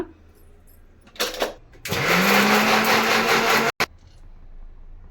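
A kitchen mixer grinder whirs loudly and steadily for about two seconds while grinding cinnamon sticks and whole spices for a pepper chicken masala, following a short rattle and brief burst before it starts, then cuts off abruptly.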